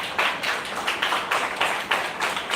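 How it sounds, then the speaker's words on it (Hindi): A crowd at a Thanksgiving gathering claps steadily, a dense patter of many hands with rhythmic swells, fairly close and loud with no talking. "ताली बजाने अच्छा लगा, अच्छा लगा।"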